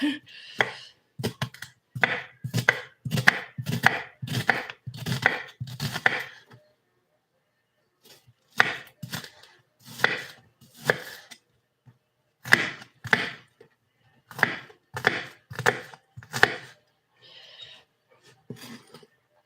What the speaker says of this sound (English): Okay, now I'll cut it up.